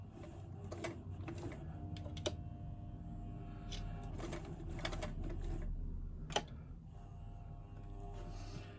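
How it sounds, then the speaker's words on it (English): A sewing machine stitching along the bottom edge of a piece of fabric, its faint steady mechanical whir running throughout with a few sharp ticks and clicks scattered over the hum. "I'm stitching along the bottom edge, if I can make the machine go"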